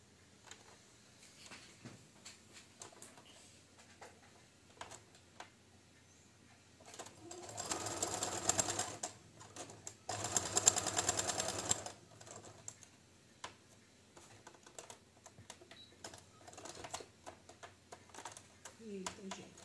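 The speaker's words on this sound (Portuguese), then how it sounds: "porque é aqui que eu vou costurar" A sewing machine stitches a patchwork seam in two short bursts in the middle, moderately loud, surrounded by quieter clicks and handling sounds, with a voice speaking at times.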